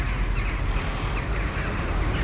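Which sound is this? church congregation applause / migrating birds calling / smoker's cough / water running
migrating birds calling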